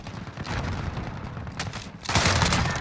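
Rapid P90 submachine gun fire in Call of Duty Modern Warfare Search and Destroy, a close, dense burst that swells louder near the end, with no talking over it.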